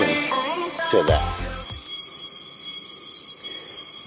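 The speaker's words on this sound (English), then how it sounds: "That is the sound of nature." Ambient forest in the Yanbaru of northern Okinawa, a steady high insect drone hanging over a quiet background, with a few brief nearby knocks and rustles early on.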